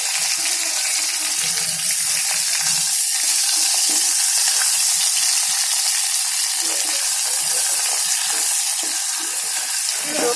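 Garlic paste, cumin and curry leaves sizzle hard in hot oil for a dal tadka tempering, a loud continuous crackling hiss close up that barely varies, with no talking.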